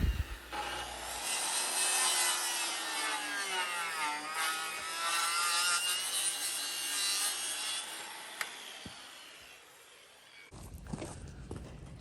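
A wooden deck board is sawn for stair steps: a long run of rhythmic, rasping saw strokes cuts close and loud for about ten seconds, ending in a few brief knocks and handling sounds.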